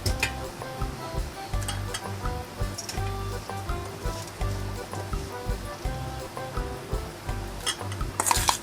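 Red sausage salad with shallots and cucumber being tossed and mixed in a bowl, a steady rustle of soft clinking and stirring running throughout, fairly close and moderate in level, with no talk.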